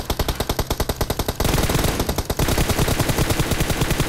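Rapid automatic gunfire in the mobile game PUBG Mobile, loud and close, starting as distinct rhythmic bursts and then merging into a dense continuous barrage.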